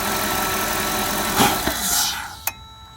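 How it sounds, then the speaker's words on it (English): Mercedes engine idling and then stalling after air is blown into its mass air flow sensor, a steady close engine drone that sags and dies out after about two seconds, ending with a brief click. "I just blew into it and shut down the engine."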